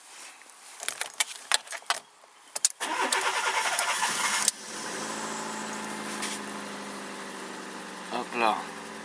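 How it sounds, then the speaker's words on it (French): Car engine cranks and catches after jingling keys, then settles into a steady idle close by, with a few clicks and brief talk near the end. "Donc on va lancer le moteur."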